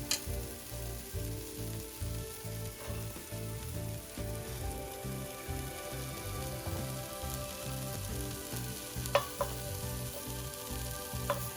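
Garlic sizzles in a pot for chili with a quiet, steady crackle, topped by a few light utensil taps and clicks, and no voices.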